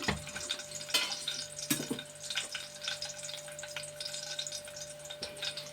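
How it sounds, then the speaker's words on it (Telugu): Oil poured into a hot pan for gongura chutney, bursting into a crackling sizzle with sharp pops and a bright steady frying hiss, close up and with no voices. "ఇంకో గరిటె నూనె వేస్తున్నాను."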